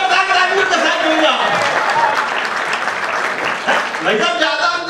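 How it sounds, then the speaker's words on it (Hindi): Loud audience clapping and cheering at a Hindi comedy poetry (hasya kavi) event, steady and dense throughout, with voices faintly mixed in among the claps. "पुलिस का जरा जोरदार ताली के साथ दूंगा।"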